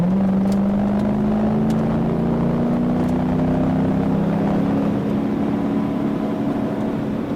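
A Mercedes E63 AMG W211 sedan with its transmission in sport mode revs on a race track. The engine drones loudly from inside the car, and its pitch climbs slowly and steadily while it holds one gear.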